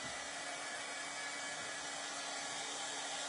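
A hair dryer blows over a damp sewing project, giving a steady, even whooshing hum that holds without change throughout, with no voices.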